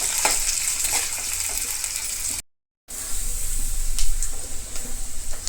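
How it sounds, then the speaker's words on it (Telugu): Cauliflower curry ingredients fry in a pan, a steady close-up sizzle and hiss that runs throughout, with a brief gap of silence near the middle and occasional stirring clinks. "ఇప్పుడు ఇవన్నీ రెడ్గా కలర్ వచ్చేంత వరకు వేగనివ్వాలి."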